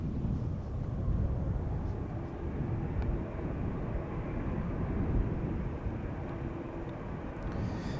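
An Air Canada Boeing 787 Dreamliner departs Amsterdam Schiphol, its jet engines producing a loud, steady, broadband roar that holds throughout with no one speaking.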